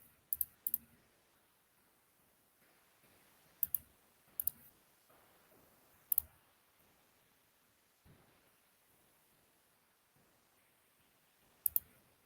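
Computer mouse clicks in a quiet room, arriving as sparse double and single taps spread irregularly, close and crisp against faint background hiss.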